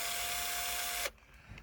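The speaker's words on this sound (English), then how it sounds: "We've got to drill these out." Power drill boring out parts of a wobbly Land Rover Discovery 2 gear stick, one loud continuous high whirring burst that cuts off abruptly, followed by faint handling noise.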